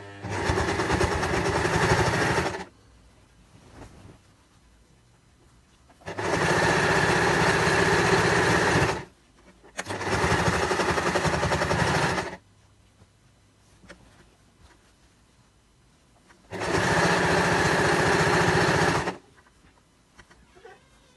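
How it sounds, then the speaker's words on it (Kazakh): A sewing machine stitches a patchwork quilt in four separate bursts of a few seconds each, a loud, close, steady mechanical whirr with quiet gaps in between. "Тура осылай соңына дейін тігіп шығамыз."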